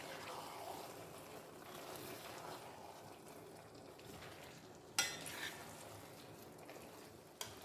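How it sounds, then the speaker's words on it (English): A spoon stirs dry catfish and deboned smoked panla fish into efo riro, a Nigerian vegetable soup, in a pot: soft, quiet scraping and gentle sizzling with a sharp clink partway through. "I remove the bones and I stir in to combine properly."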